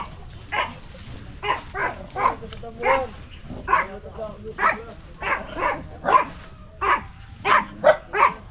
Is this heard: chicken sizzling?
no